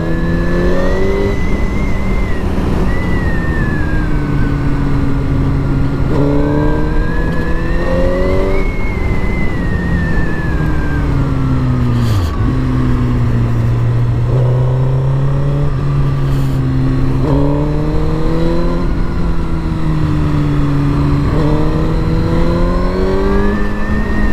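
BMW F700GS motorcycle ridden down a winding Alpine road, its engine a loud, close, steady hum whose pitch rises and falls repeatedly through gear changes and throttle shifts, with constant wind rush.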